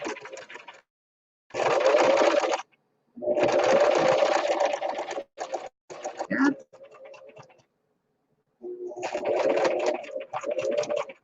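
A sewing machine stitches a fabric banner in several loud close bursts separated by pauses, including a short back stitch, with someone talking in between.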